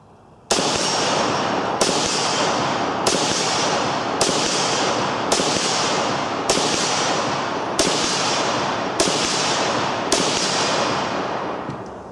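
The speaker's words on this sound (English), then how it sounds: "9 rounds of hollow point through a converted gun." A VZ-52 rifle converted with a 7.62x39mm insert fires nine rounds of hollow point in a steady, evenly spaced string of loud, sharp shots. Each report rings on into the next.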